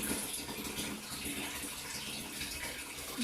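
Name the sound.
boiled kettle water poured into rhubarb wine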